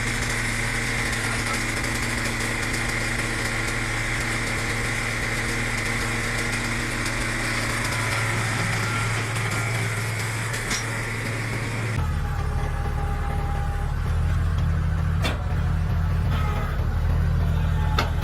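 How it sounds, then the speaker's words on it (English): A Growy GSW-17K log splitter runs steadily in a wood yard, its engine drone continuous and fairly loud throughout. Partway through the pitch drops and the tone deepens, as if the machine changes load. "the Growy GSW-17K log splitter works steadily, without fuss"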